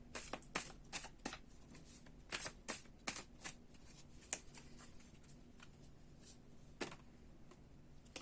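Cards being shuffled by hand: a run of crisp riffling bursts and soft slaps at an uneven pace, close and fairly quiet, with no talking.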